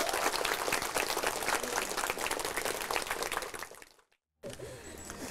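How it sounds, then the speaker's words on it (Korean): Pilgrims on a visit to a holy site clap for the head monk, a loud, dense wash of applause that fades out near the end, followed by a brief silence and then quieter room sound. "우리 여기 주지스님한테 박수 한번 쳐드려"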